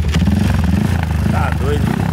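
A 351 cc Today motorcycle engine runs with a loud, buzzing putter close by, while people talk over it.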